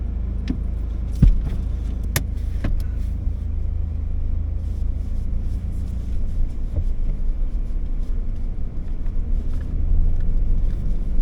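A car grinds downhill in low range first gear on a dusty off-road track, its engine a steady low rumble beneath occasional knocks and clunks from the rough ground, with no talking.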